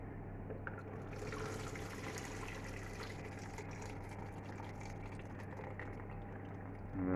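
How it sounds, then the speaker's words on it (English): Cooking liquid from pulled pork being drained off, a continuous low pouring and splashing of liquid at close range that holds steady for several seconds, no voices. "let's just drain off the cooking liquid"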